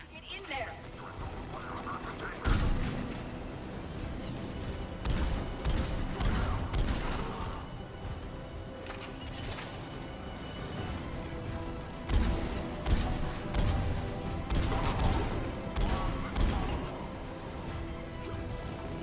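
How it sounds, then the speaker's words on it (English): Mass Effect 3 video game firefight with dense bursts of gunfire and booms, in repeated loud volleys over a busy battle bed, while voices shout throughout. "They're under fire! Taking fire!"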